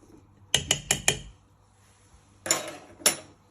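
Bicarbonate soda being stirred into a sticky toffee pudding mixture in a bowl, a spoon clinking against the bowl in a quick burst of four taps, then two more scraping knocks, close and unaccompanied.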